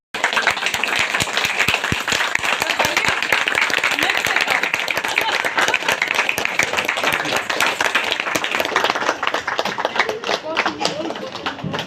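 An audience at a district gathering applauds with thick, continuous clapping that stays loud and even from start to finish, many hands overlapping into a close, crackling wash.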